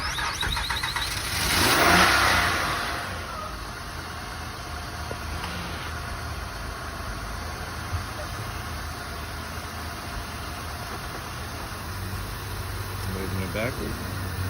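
A 2008 Honda Odyssey at a city auction, jump box attached, cranks and catches, then settles into a steady low idle with a brief rev, while people talk nearby.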